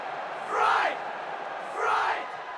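A large wrestling arena crowd chants a two-syllable name in unison. Two distinct swelling chants come about a second apart, loud and reverberant, with a murmuring crowd between them.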